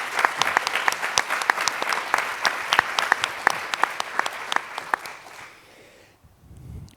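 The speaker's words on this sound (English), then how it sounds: "I think a good round of applause" A gathering audience at a 2019 climate conference event breaks into loud, dense applause with sharp individual claps standing out, holding steady for about five seconds before fading away into near quiet.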